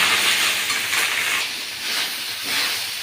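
Rice frying in white oil in a wok for veg fried rice, making a loud, continuous hissing sizzle that swells and eases in slow waves, with no talk.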